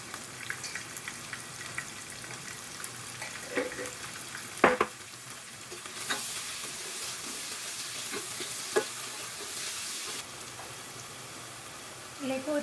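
Masala for fish pickle sautéing in a pan, a soft continuous sizzle broken by scattered stirring scrapes and clicks, fairly quiet overall.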